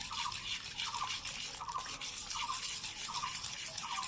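Gram flour batter for stuffed capsicum chops is stirred while water is slowly added, making steady, rhythmic wet scraping strokes close by that repeat about once a second, with no voices.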